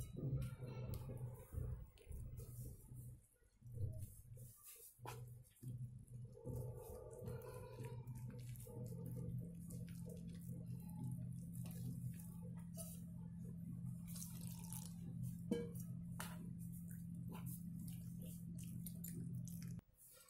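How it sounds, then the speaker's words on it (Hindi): Water added bit by bit and stirred into a gram flour batter with lemon juice, with wet squishing and sloshing, intermittent clinks and drips, and a low steady hum in the background, close and fairly quiet. "इसमें हम थोड़ा थोड़ा पानी डाल के मिक्स करेंगे।"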